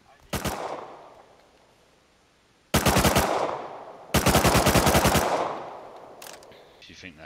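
AK rifle firing in a multiplayer video game, three bursts of rapid automatic fire: a short one, a longer one, then a sustained burst of about a second with echoing tails between them, loud and close.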